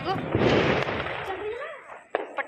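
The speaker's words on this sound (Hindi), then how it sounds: "पटाखों की गूंज सब जगह चल रही है।" Diwali firecrackers bursting across a city at night, a dense burst of crackling pops and booms up front that fades into sharp scattered cracks, with a voice speaking in the background.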